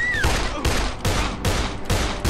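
Gunfire in the zombie video game Dead Island, a rapid volley of loud shots in four or five sharp bursts with a brief rising tone at the start, no talking.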